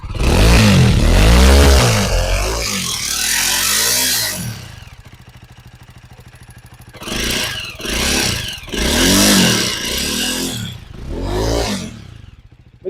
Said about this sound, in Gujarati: એક જ સેલ્ફે ગાડી ચાલુ થઈ ગઈ છે અને આનો અવાજ પણ તમને સંભળાવી દે